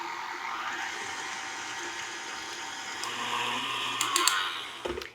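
An electric hand mixer whirs steadily through cookie dough with vanilla and an egg being beaten in, a continuous motor drone that swells slightly before a few clinks near the end.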